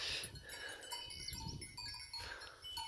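Goats on a farm bleat and call in a few quick, quiet bursts, with a faint clank like a bell among them and no talking.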